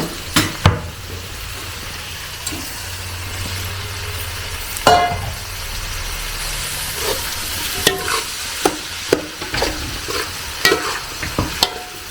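Brinjal being stir-fried with tempering in a pan during festive home cooking: steady frying hiss under repeated clinks and scrapes of a spatula against the pan, close and fairly loud, with no voices.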